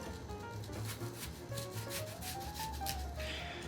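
A knife saws back and forth through a fresh apple, cutting it into flat slices for caramel apple s'mores; close, steady rasping strokes run continuously with no talking.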